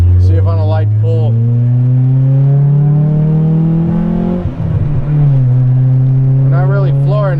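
Honda Prelude accelerating on a light throttle pull after a crank position sensor replacement, a steady rising engine drone running through the whole stretch with a brief dip midway, close and fairly loud, with no talk over it.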